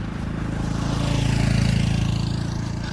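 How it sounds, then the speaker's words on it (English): A small engine buzzes close by with a pulsing, mid-pitched drone that swells and fades over a few seconds, like mopeds driving past on a street. "before it gets too noisy with all these mopeds going past"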